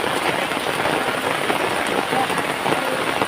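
Steady, dense rain pours down continuously, a loud hiss of drops hitting surfaces with no break.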